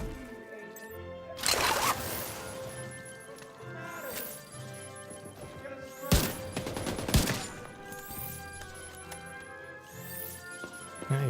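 Incendiary rounds fire in The Division 2 in several loud, crackling bursts with long decaying echoes, separated by quieter stretches of game ambience and music.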